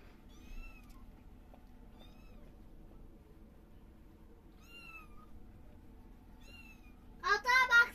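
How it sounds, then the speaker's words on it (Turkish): One-month-old kittens give a few thin, high meows spaced across the scene, with a louder cluster of cries near the end over a low background hum. "Bir aylık kediler."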